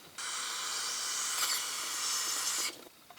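Aerosol carb cleaner sprays onto a Quadrajet carburetor from a 1966 Chevy Biscayne big block in one continuous loud, close hiss lasting about two and a half seconds before cutting off with a brief sputter.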